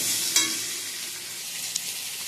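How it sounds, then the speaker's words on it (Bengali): Cut potatoes frying in hot oil in a pan, added after onions, make a steady close sizzle with a couple of brief louder spatters or stirring clicks and no voices. "এবার আলুটা একটু ভালো করে ভেজে নেব।"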